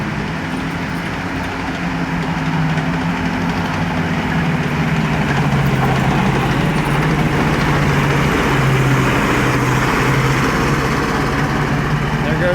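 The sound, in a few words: Chaffee tank tracks and engines outdoors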